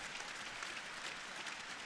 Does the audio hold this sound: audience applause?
yes